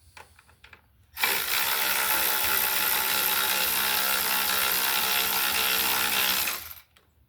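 A power tool or impact driver runs steadily for about five seconds while tightening the track adjusting nut on a Honda HS55-70-80 snowblower, a loud continuous close-up whir with quiet gaps before and after.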